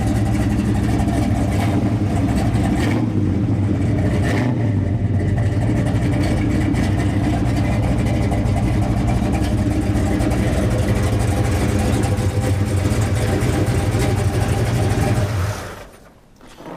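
The big-block V8 of a 1967 Chevelle SS 396 resto-mod idles loud and near with a few mild swells in revs, then its rumble abruptly drops away near the end; no one speaks.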